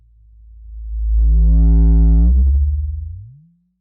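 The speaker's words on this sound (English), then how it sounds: "I had a sine wave selected, but there's the lowest one." A synthesized sine wave tone swells from a low hum into a loud, steady buzzing note, then wavers and fades out over about three seconds.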